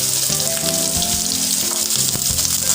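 Garlic frying in a pan with onion and ginger, a dense loud sizzle and crackle holding steady for a few seconds, close up, no speech.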